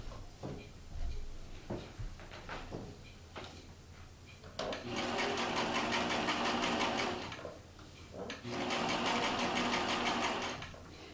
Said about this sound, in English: We go ahead and we sew all the way around the edge